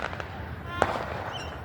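Fourth of July fireworks go off with several sharp bangs and crackles, one loud report standing out in the middle, with a crowd's voices and background chatter running underneath.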